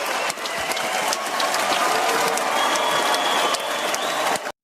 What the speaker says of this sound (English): Hey, clap it up, man